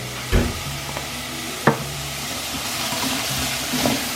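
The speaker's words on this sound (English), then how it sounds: "So just dry fry this. Turn down the heat a bit so it doesn't burn." Fajita spice dry frying in a hot pan, a steady close sizzle and hiss with a few sharp knocks of a utensil against the pan, no talking.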